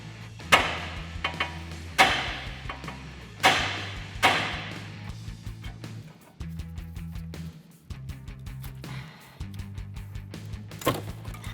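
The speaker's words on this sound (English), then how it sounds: "You have to smack the boss on the knuckle with a hammer" Sharp metal-on-metal hammer blows on the steering knuckle of a Silverado pickup, several heavy strikes in uneven bursts with ringing overtones, close and loud, with a low mechanical hum underneath.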